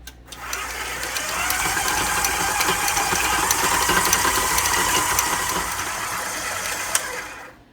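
An electric mixer creams chocolate chip cookie dough in a bowl. A loud, buzzing motor whir spins up, holds steady for several seconds with faint rattles of the beaters, then winds down.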